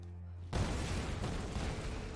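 Fuel tanks explode to blow open a gate in the Tomb Raider (2013) video game. After a low hum, a sudden loud burst gives way to a sustained, heavy rumbling roar.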